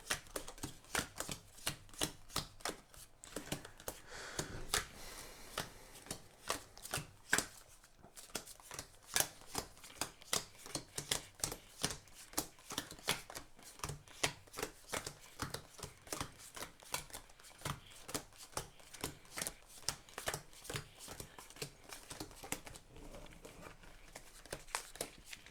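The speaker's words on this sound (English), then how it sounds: "separate those into their piles and then shuffle" Weapon and monster card decks for Bloodborne the Card Game are shuffled over and over, a close, rapid run of riffling and snapping bursts with brief pauses between them.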